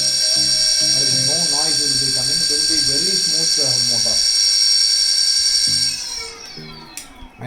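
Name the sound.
1000W BLDC electric hub motor running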